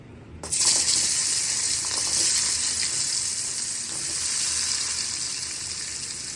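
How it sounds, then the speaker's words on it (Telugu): Cucumber pieces for dosakaya pachadi drop into a hot pan, and a sudden burst of loud sizzling starts after a brief quiet moment, then hisses on steadily and close by. "దీని తర్వాత సేమ్ ఇదే ప్యాన్లో మళ్ళీ మనము దోసకాయలు వేసుకుందాం"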